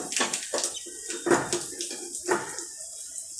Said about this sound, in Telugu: ఇదిగోండి తిరగమాపు వేగిపోయింది ఇంగు వేస్తున్నాను